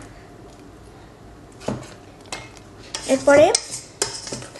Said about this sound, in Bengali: এই মিশ্রণটাকে অল্প অল্প করে এই বেশি যেটা আটা ছিল সেটার সাথে মিক্স করে দিব।